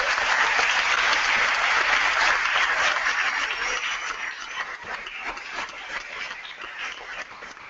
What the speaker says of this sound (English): give Dr. Coleman and Dr.